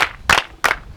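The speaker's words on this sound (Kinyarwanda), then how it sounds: "mukomera n'amashyi ahaguruke adusubize nk'uko bikwiye" An audience claps in three sharp, loud bursts at a brisk, uneven pace, each burst a quick flurry of overlapping hand claps, with no voices.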